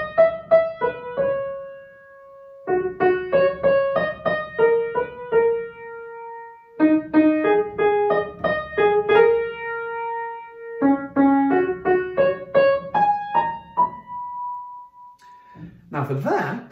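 Solo piano plucks out a single-line melody, the top line of a composition's main theme, in short phrases of evenly paced notes separated by pauses, clear and fairly quiet, ending with a brief rustle.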